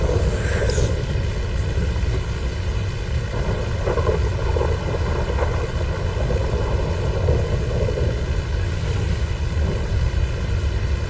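An airplane engine in the game GTA 5 Online drones steadily and loudly throughout, a constant tonal hum with no talk over it.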